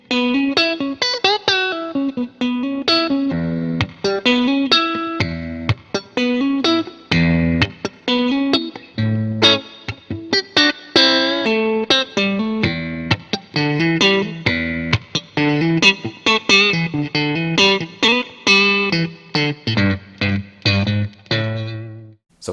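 Electric guitar with single coil pickups, Strat style, played alone in bright, chiming notes with snappy attacks and a slight effects sheen, a continuous run of picked phrases and chords at steady loudness.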